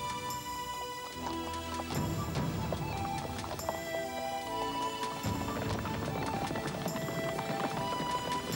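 Cartoon horse hooves clip-clop over a busy, layered backdrop of music and other sounds, with steady trotting rhythm throughout.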